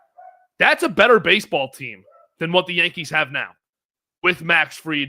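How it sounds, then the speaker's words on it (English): Dogs bark in a home during a baseball discussion, with short yips and woofs mixed in under steady, close male conversation. "Excuse my dogs."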